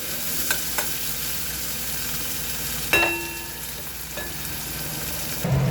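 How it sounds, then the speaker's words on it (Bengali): Potato pieces frying in oil in a pan for a koi fish curry make an even, moderate sizzle throughout, with a couple of sharp utensil clanks and a faint scrape near the end. "একটু আলুটাকে ভাজবো"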